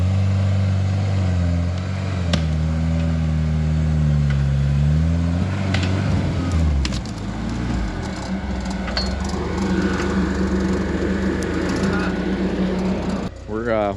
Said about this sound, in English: that's why he's riding the clutch so much